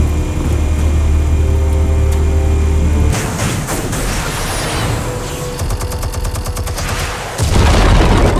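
Explosives detonating in Batman: The Telltale Series, a heavy boom bursting in partway through followed by rumbling debris and rapid crackling blasts, loud and close over a low game score that swells again at the end.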